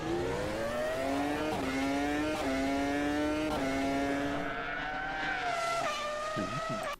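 A high-pitched V10 Gen 2 race car engine in a racing video game screams steadily, its pitch climbing and dropping through gear shifts, loud and close, with no voices.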